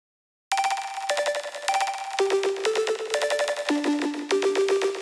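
A textured synth lead made in Reason, run through distortion that grits up its reverb and delay, plays a sequence of buzzy sustained notes that step up and down in pitch, loud and unaccompanied after a brief silence.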